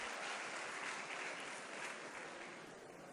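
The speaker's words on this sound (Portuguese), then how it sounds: "Um aplauso para a galera que conseguiu o livro aí." An audience at a lecture claps steadily as a dense, continuous wash of applause, loud at first and thinning a little toward the end.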